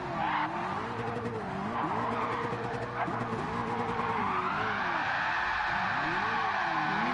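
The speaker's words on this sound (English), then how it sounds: "I freaking spun out." A car spins out in Gran Turismo 7, its engine note rising and falling in waves as the tires squeal and skid continuously, loud and close throughout.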